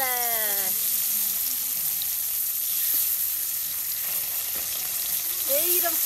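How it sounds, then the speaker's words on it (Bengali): Spiced fish, stuffed with masala, frying in hot oil: a steady, loud sizzle hisses throughout, with a short voice at the start and brief faint clinks near the end. "এখন আমি তেলের মধ্যে ভাজবো কি সুন্দর কইরা"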